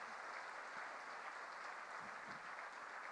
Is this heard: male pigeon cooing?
no